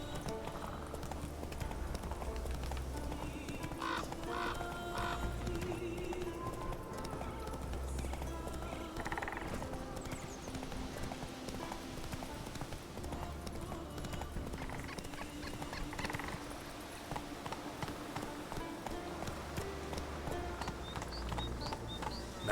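Roach, Geralt's horse in The Witcher 3, trots with steady rhythmic hoof clip-clops on the ground over low ambient game music, continuous and fairly close throughout.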